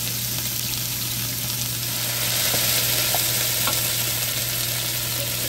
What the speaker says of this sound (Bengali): কেটে রাখা পাঁচমিশালি সবজি অ্যাড করা হবে। এবার কিছুক্ষণ ভেজে নিতে হবে।